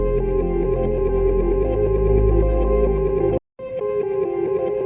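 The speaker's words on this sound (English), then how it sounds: "Really cool, that trippy, fucked up melody" Trippy melody from a reverb-drenched pluck, a dense, shimmering wash of sustained tones that cuts out abruptly, then resumes after a brief gap.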